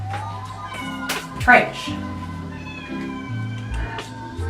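A cat meows loudly several times close by, with a person speaking briefly between the cries.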